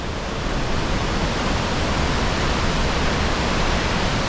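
A waterfall at Cinchona, Costa Rica, roars as a loud, dense, unbroken rush of falling water that holds steady for the whole stretch.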